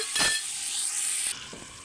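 Sweet potatoes cooking in ghee in a pan, giving a bright, close hiss of frying with a short stir and light clatter at the start. The hiss drops off abruptly partway through.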